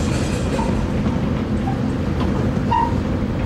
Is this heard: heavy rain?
no